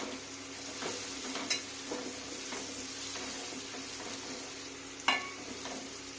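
Ginger garlic paste masala frying on high flame for a fish curry, with a constant fine sizzle and an occasional spoon scrape or tap against the pan, fairly quiet and close, and no talk.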